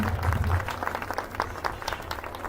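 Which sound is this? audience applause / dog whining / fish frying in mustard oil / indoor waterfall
audience applause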